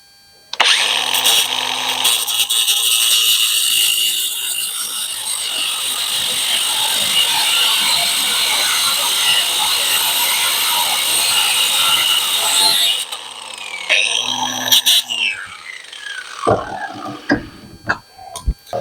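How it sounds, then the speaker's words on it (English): A saw cuts a quarter inch off a Factory Five Racing Roadster steering rack part, a loud steady buzzing cut lasting about twelve seconds, then a few short bursts and clanks as it stops. "now we're going to lop 1/4 inch off the top of this"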